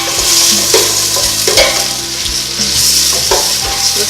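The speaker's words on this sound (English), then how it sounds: "we're frying our onions and they're about to get ready" Steady, crackling sizzle of onions frying in a hot pan, continuous and close, with occasional louder pops and spatters.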